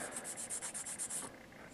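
Sandpaper rubbing a plastic Gundam model kit part (Freedom Gundam MG Ver. 2.0), quick rhythmic back-and-forth strokes, close and soft, with no talk.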